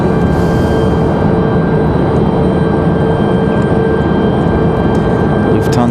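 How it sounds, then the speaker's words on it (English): A Lufthansa airliner makes its final turns near Raleigh-Durham International Airport, a loud, steady jet roar that holds unbroken from start to end. "Lufthansa making their final turns."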